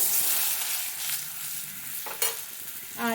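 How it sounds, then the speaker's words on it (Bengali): Small mango pieces frying in hot oil in a pan, giving a dense, bright hiss that stays close and fairly loud, with a couple of short scraping stirs near the end. "এবার এখানে আমি ছোট্ট সাইজে দুটো আম দিলাম আমগুলো একটু ভেজে নেবো"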